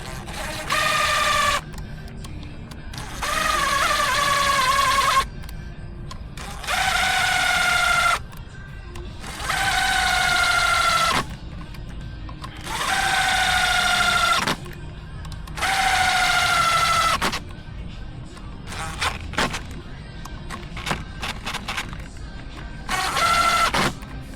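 A power impact driver snugs bolts on a Suzuki DRZ-400SM motorcycle during a gear shifter repair, whirring in about seven close, loud bursts of a few seconds each, its pitch falling within each run, with short pauses between.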